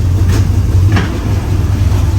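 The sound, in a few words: Chevy Bel Air with 265 engine running in reverse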